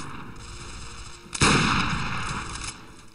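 Gunfire in the World War II shooter Return to Castle Wolfenstein: a sudden loud burst of shots about midway, followed by sustained rattling and ringing that holds steady before a sharp pop near the end.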